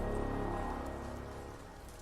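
Steady rain falls in Ender Lilies, a continuous soft hiss of drops on surfaces that fades slightly toward the end, with no voices.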